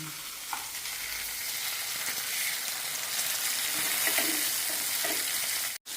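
Fish frying in a pan of hot oil at home, a steady close sizzle and crackle with light stirring and scraping, and no talking.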